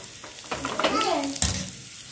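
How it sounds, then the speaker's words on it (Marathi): Hot mustard-seed tempering oil, poured for a sprouted moong raita, gives a brief burst of sizzle and crackle, heard close and moderately loud beneath a voice speaking. "मग फोडणी घालून घ्या, छान भाजून घ्या म्हणजे छान लागतं।"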